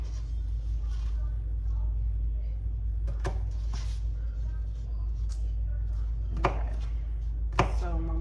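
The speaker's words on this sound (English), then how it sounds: "So I'm almost done chopping this up." Onion being chopped on a cutting board while making hamburger steak with onion gravy: a few sharp, irregular knife knocks stand out over a steady low kitchen hum.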